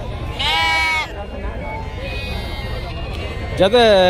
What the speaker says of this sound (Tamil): நிறைய ஆடு வந்திருக்குங்க இந்த வாரம்.